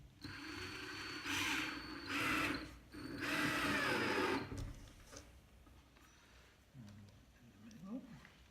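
A power drill drives screws into a small wood piece, giving three strong close whirring bursts in quick succession, then quieter handling sounds and a voice speaking faintly afterward.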